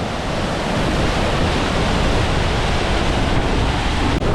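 Vela Peč waterfall in Istria, fed by the Pasjak, a tributary of the Mirna, in heavy flow: a loud, steady broadband roar of falling water filling the whole stretch without a break, close to the microphone.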